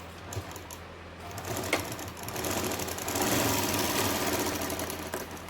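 A sewing machine runs steadily while stitching the neckline of a kurti on canvas fabric, a close, continuous mechanical whir with ticking needle strokes that rises slightly in pace toward the end, with no talking.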